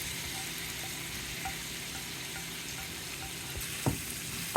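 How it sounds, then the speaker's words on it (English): Fried octopus pieces land in a pan of sour tomato sauce and sizzle steadily, a soft continuous frying hiss with a few faint clicks and a couple of sharper stirring knocks near the end. "Now I add the fried octopus pieces."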